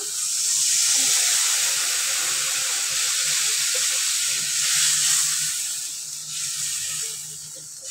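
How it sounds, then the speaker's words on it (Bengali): Minced chicken in a pan for chicken kosha with chui jhal, with water poured in giving a steady loud hiss and bubbling sizzle that swells and eases over several seconds, heard without talk. "আমার মাংসটা বেশ কষানো হয়ে গেছে। আমি এই পর্যায়ে দিয়ে দেব জল।"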